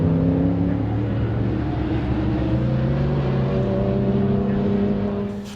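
Sports sedan race cars at Sydney Motorsport Park, a loud, sustained engine drone with steady harmonic tones, fading slightly at the end.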